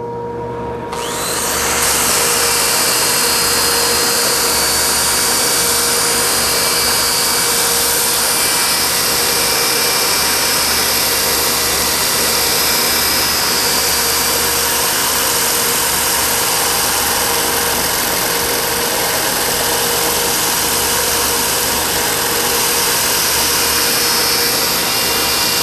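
Power tool spinning a larger-diameter sanding pad on wood, a loud continuous whining drone that starts abruptly and holds steady, close up and alone.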